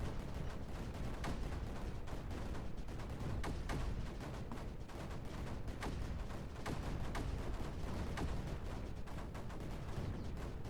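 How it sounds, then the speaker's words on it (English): Cannons and snipers firing in the strategy video game Creeper World 4, a dense, continuous stream of quiet overlapping shots and thuds with no pause throughout. "More cannons, more snipers."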